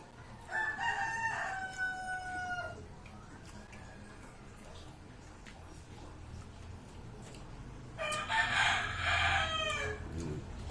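A rooster crows twice, once near the start and again louder later, with faint background noise in between.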